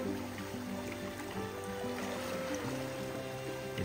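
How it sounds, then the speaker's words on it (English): Rushing water of a raging creek in Alaska, a steady, dense roar of flowing current that runs continuously without pause. "The river that blocks our moose. Raging torrent."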